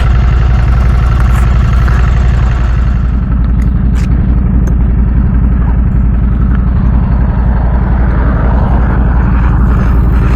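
Motorcycle engine running steadily on its first ride after a top end rebuild, a loud continuous low rumble with no talking.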